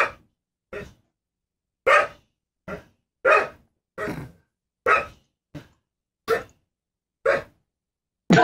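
A dog barks about ten times in separate sharp bursts, close and fairly loud, with short silences between each bark.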